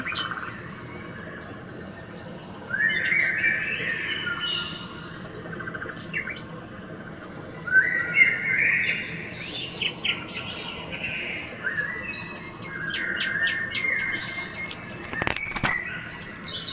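Pet sparrow Pierrot from a French children's story chirping, bursts of bright tweets and twittering calls in several clusters with quiet gaps between, fairly close, and a short rustle near the end.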